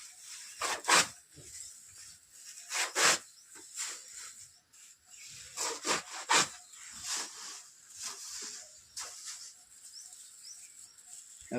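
Straw being cut by hand for cow feed: close, rhythmic crunchy swishes of blade through dry stalks, roughly a dozen strokes at uneven intervals with quiet gaps between, no talking.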